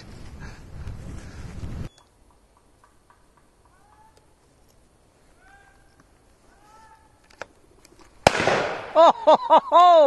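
A single sharp, loud shotgun blast cracks out during walked-up rough shooting with cocker spaniels outdoors. Rustling movement comes before it and a quiet stretch follows, with a bird's calls ringing right after the shot.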